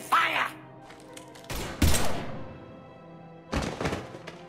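Gunfire in Mass Effect 3 combat, heard as a few heavy, thumping bursts that hit hard and fade between volleys, with speech-like sound mixed in around them.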